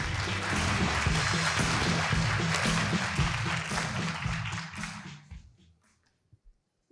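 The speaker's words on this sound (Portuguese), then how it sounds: "Palmas para ele." Crowd at a São Paulo e-commerce event applauds as a speaker is called to the stage, dense clapping that holds steady, then thins out and dies away, leaving a few scattered claps at the end.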